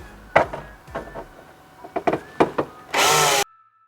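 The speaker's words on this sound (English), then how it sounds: "drill the holes with your drill bit of" Several short bursts of a power drill whirring into a Ford Mustang Shelby GT350 fender, spaced unevenly, finished by one louder, steady run that cuts off abruptly.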